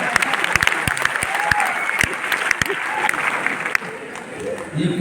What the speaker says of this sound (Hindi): तेज ताली बजा रहा है चोरी पे।